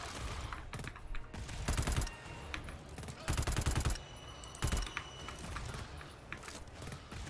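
Automatic gunfire in the co-op shooter GTFO, with several loud rapid bursts separated by short gaps and a steady low rumble of game sound beneath.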